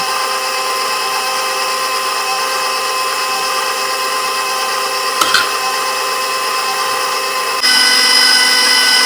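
Electric mixer whisking lemon blueberry bundt cake batter with lemon juice, zest and oil, a loud, steady motor whine running throughout, with a short clatter midway and a slightly higher, louder pitch near the end.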